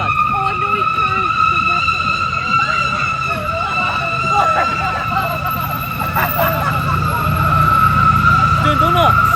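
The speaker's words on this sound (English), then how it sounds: "Doing donuts." Sustained tire squeal and screech from a car doing donuts at a Scottish car meet, loud and continuous over a rumbling engine, with onlookers' voices faintly mixed underneath.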